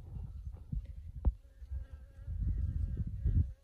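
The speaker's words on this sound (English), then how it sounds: "The bees are just starting to wake up this morning. They are working on the rosemary." Bees buzz low among blooming rosemary in a garden on a winter morning, a soft, uneven hum that swells and fades close by, with a faint rustle partway through.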